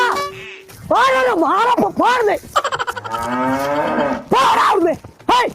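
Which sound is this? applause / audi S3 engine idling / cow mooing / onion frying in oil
cow mooing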